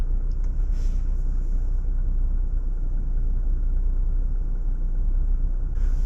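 A Jeep Gladiator or Wrangler JL fitted with a Bestop Sunrider top sits stationary at idle, a steady low engine rumble heard from inside the cabin with no talking.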